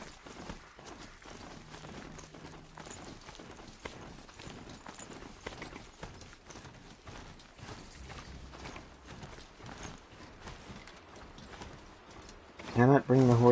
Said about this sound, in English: Cannot bring the horse into town.